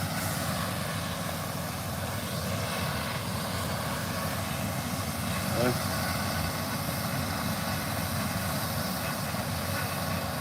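A helicopter drones steadily overhead at a constant, moderately loud level, a broad continuous rotor and engine wash with no pauses, out near emergency activity with fire trucks around.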